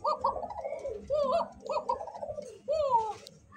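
A red bar pigeon coos close by in repeated rolling phrases, about four calls with short pauses between them, fairly soft.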